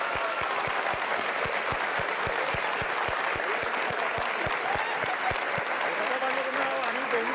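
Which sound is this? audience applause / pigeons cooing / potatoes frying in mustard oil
audience applause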